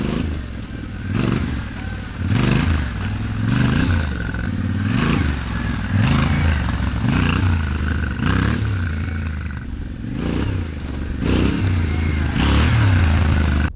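Adventure motorcycle engine repeatedly revved as the throttle is opened to pop the front wheel: a rhythmic series of loud rising revs, each followed by a dip back toward idle, close and steady for the whole stretch.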